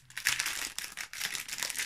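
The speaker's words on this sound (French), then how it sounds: "Attendez, je vais la déballer du plastique." A greeting card being unwrapped from its plastic packaging, with close, crisp crinkling and rustling in several short bursts.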